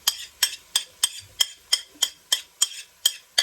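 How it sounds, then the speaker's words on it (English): Spices and a fresh green masala paste of coriander, garlic, ginger and green chilies stirred in a pan, a spoon scraping and knocking in about ten evenly spaced strokes, close and crisp with no voices. "Give that a good stir"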